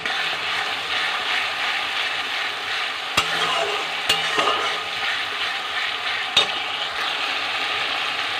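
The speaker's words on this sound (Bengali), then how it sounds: "আমি এক চামচ পেঁয়াজ বাটা দিয়ে দিলাম এবারে এটাকে একটুখানি নেড়ে নিতে হবে" Tomatoes and a spoonful of onion paste fry and are stirred in a pan: a loud, constant sizzle with a few sharp utensil knocks against the metal.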